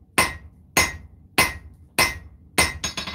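A hammer striking a knife blade on an anvil while forging a distal taper, five evenly spaced sharp ringing blows about half a second apart, then a quicker double strike, loud and close.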